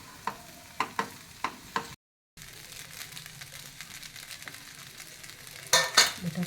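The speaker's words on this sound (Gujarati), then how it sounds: "અને હલાવીશું." Batata poha with sugar being stirred in a pan, a series of soft scraping strokes in the first seconds, then a quieter steady rustle with a few louder scrapes near the end, close by and with no one talking.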